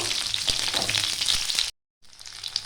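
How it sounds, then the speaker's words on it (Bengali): Jujube fruits stirred in a hot pan with tempering spices for pickle, a steady close sizzle with spatula scrapes, broken by a brief silent gap before resuming. "এরপর দিয়ে দিচ্ছি কুলগুলো কুলগুলো ভালো করে নাড়িয়ে টাড়িয়ে নেব"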